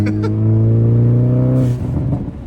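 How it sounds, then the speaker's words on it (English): A Hyundai Veloster N with a blow-off valve drops a gear on the road: a loud, close engine drone falls in pitch, then cuts into a short, rough burble as the valve vents during the downshift. "You could probably hear the blow-off valve there."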